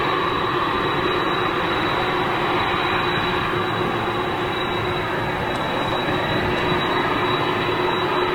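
An Etihad airliner moving at Manchester Airport, heard as a steady, loud, broadband jet engine roar that holds constant throughout with no breaks and no talk.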